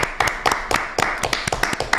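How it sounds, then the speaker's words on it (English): Applause breaks out on a live Saturday football show, a small group of people clapping with sharp, slightly uneven hand claps, close and fairly loud, rising and falling in bursts over two seconds. "Matisse, big round of applause for you today."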